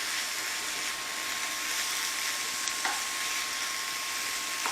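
Vegetables stir-frying in a pan for a vegetarian stir fry, giving a steady, close hiss of sizzling that runs unbroken throughout, with a brief scrape or clink as the food is moved around.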